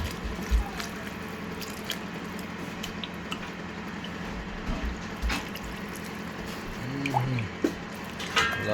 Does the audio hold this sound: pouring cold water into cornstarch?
yes